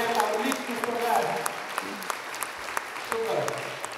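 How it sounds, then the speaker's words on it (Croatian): An audience at a children's New Year performance gives steady applause throughout, with a voice speaking over the clapping at moments. "En aplauz in hvala"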